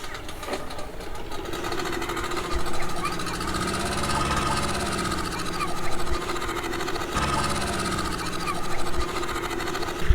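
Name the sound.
speedboat engine at a river boat landing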